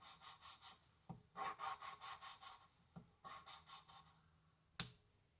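An engine valve on a Kohler Command CH16S head being lapped with a suction cup tool, close rhythmic gritty rasping in quick bursts of back-and-forth strokes, broken by sharp clicks and a final knock.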